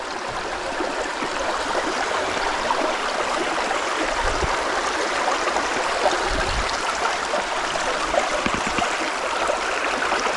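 Water flows steadily over a small stone weir in a stream, giving a continuous close rushing and gurgling wash with no pauses.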